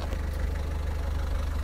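A Peugeot 207 with a 2-litre turbocharged engine that leaks oil idles close by, a steady low rhythmic throb with even pulses and a busy mechanical clatter on top.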